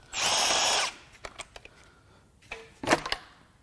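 A power drill whirs in one short close burst while unbolting the EGR valve on a Dodge 4.7L Powertech V8, followed by light metallic clicks and taps.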